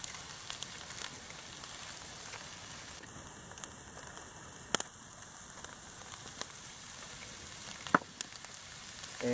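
Sausage fries in a cast iron pan with a steady, even sizzle that hisses throughout, broken by a few sharp pops and light clicks of utensils.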